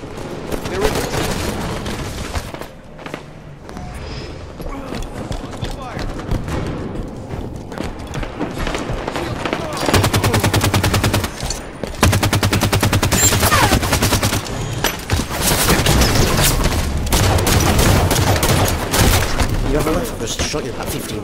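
Dense, continuous gunfire from Halo 5 multiplayer, with rapid automatic bursts and heavier blasts sustained for the whole stretch, loud and close, with occasional talk mixed in.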